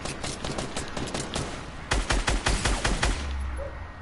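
Rapid gunfire in an online shooter video game, a steady stream of sharp shots that thickens into louder, closer bursts before trailing off into a faint hum, with no voices.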